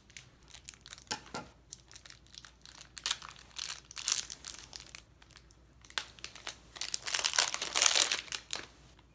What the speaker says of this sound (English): Go ahead and open up your sugar cookie dough.